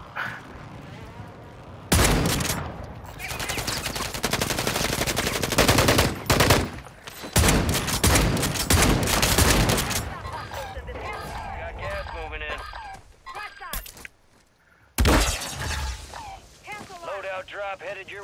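Heavy automatic gunfire in a multiplayer shooter, long dense bursts of rapid shots that stop and start across the stretch, loud and close, with players talking over the shooting.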